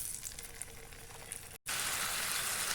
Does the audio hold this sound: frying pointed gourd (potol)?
yes